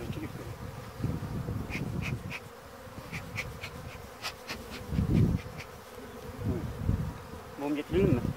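Bees buzz close by at an open hive during beekeeping work, a dense, wavering hum, with occasional taps and knocks and low voices murmuring underneath.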